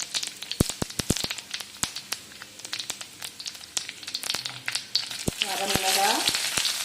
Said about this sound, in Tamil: எண்ணெய் காஞ்சோடனே கடுகு உளுத்தம்பருப்பு போட்டேங்க.